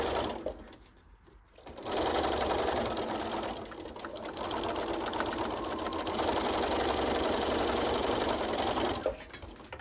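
A sewing machine understitches a lined bodice, its needle chattering in a fast, steady mechanical rhythm that starts after a brief quiet moment, runs close and continuous, pauses briefly, then stops near the end.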